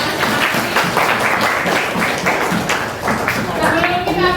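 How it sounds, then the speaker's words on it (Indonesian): A classroom of students claps in a burst of lively applause, steady and fairly loud throughout, with a few voices mixed in. "Kita beri tepuk tangan untuk diri kita"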